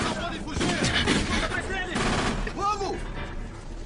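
Rapid bursts of gunfire crack out as Bonnie and Clyde's gang shoots at police, amid shouting voices and a chaotic, noisy scene, loud and close.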